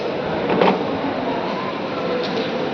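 A train rumbles steadily at Sealdah railway station, a continuous close mechanical roar of rail cars with faint knocks and no clear voices across the short stretch.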